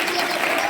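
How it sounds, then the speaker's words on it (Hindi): A school audience at a career fair claps together, a dense, loud burst of applause filling the whole short moment. "ताली बजाओ एक बार, बहुत अच्छा।"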